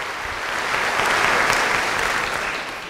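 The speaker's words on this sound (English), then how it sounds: "Just give yourselves another round of applause." School staff at the Shaker Heights Schools 2013 convocation applaud themselves. The steady clapping from a large hall swells in the middle and tapers off at the end.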